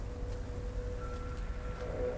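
Steady rain falling in the Path of Titans game world, a continuous even hiss of drops with a faint tonal hum beneath, no voices.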